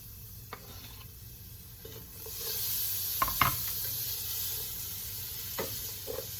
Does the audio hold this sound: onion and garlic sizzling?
yes